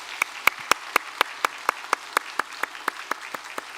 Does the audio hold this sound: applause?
yes